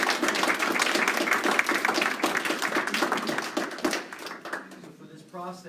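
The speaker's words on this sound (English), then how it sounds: "Let's give a round of applause for" Audience applause at the close of an agriculture education presentation, dense steady clapping from a room full of people that thins and fades over the last couple of seconds, with a voice briefly heard near the end.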